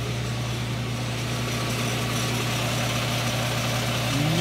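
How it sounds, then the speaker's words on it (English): Air compressor with a pressure switch that had been sticking, running steadily with a loud, continuous motor hum and drone throughout, no talking. "now I need to do something about my air compressor"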